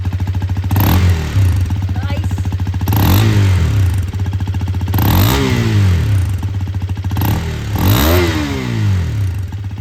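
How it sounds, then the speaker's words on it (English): A Hero Xpulse 210 motorcycle idles with a gruff, clattering exhaust note, then is revved four times in a regular rhythm, each rev swelling loudly up close and falling back to idle. "let's quickly first start off with the exhaust note"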